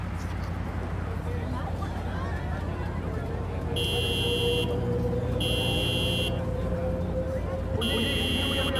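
A car horn honks in Cyberpunk 2077 in three sustained blasts, each about a second long, sounding over a steady hum of background noise and game ambience.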